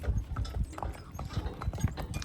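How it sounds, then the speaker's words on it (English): Team of mules walking, a close run of hoof clip-clops in an uneven steady rhythm, moderately loud with no talk. "This is a nice team of mules."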